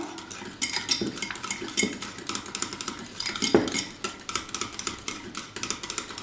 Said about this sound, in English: Keep whisking it nicely until all the lumps which are formed are completely dissolved in it.